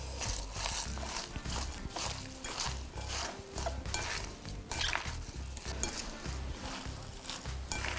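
Kimchi ingredients being mixed by hand in a bowl, giving soft, wet squelching and rustling in a busy, irregular rhythm at low volume, with no talk.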